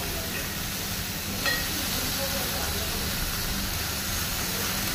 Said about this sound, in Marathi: ह्या सायडीन हांवें चिकन दवरला ते हे करता फ्राय करून घेता